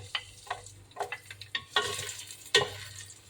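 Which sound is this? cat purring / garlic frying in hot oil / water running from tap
garlic frying in hot oil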